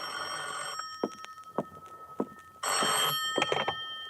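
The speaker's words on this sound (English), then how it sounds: "At 10:05, my phone rang." An old-style telephone bell rings in bursts in an apartment at night, with a buzzy metallic trill, then a short pause, then a louder second ring, close and clear.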